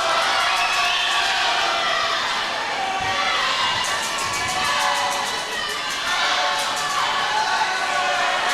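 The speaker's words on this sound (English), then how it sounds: "Fans are on their feet here cheering them on." A large crowd of fans cheers loudly and continuously at a swimming championship final, with shrill shouts and whoops in an echoing indoor pool hall.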